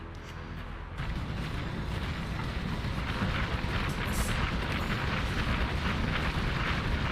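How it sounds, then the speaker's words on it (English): A video game explosion in a combat shooter booms in from silence, then sustained roaring rumble and crackling debris fill the rest, loud and continuous without voices. "explosion."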